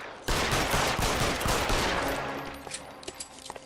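A dense volley of gunshots erupts in the L.A. Noire video game, loud and sustained at first, then thinning into scattered separate shots.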